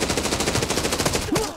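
Rapid automatic gunfire in the shooter game Arena Breakout: Infinite, a fast close burst of repeated shots with a brief voice cry near the end.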